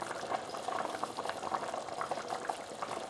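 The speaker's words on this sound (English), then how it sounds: "we've let the stew boil away for about 5 minutes" A pot of spicy peanut stew with ginger and tomato bubbles at a steady boil, close-up thick gurgling and popping in a continuous irregular rhythm, with no one speaking.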